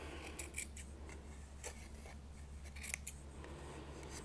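Quiet, close scissors snip yarn ends on a loom several times in quick irregular bursts, blades sliding and clipping through fibers against a faint low hum.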